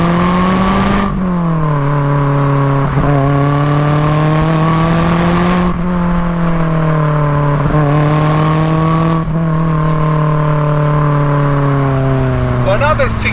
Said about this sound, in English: I'll also add the exhaust because just listen to it scream